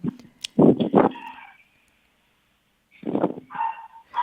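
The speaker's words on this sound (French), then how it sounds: "On entend votre petit chien." A small dog barks over a phone line on a radio call-in show, a quick cluster of sharp yaps, a pause, then a few more, thin and distant.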